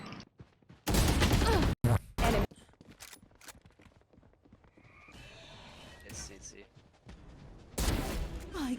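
Gunfire in the video game Valorant: short, loud, crisp bursts of shots in three volleys, near the start, around two seconds and at the end, separated by quieter game ambience and faint voices.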